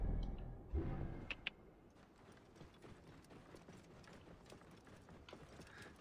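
Horse hooves clopping at a riding pace in Assassin's Creed Origins, a steady rhythmic patter after a louder thump near the start, moderately close with faint mechanical ticking and no talk.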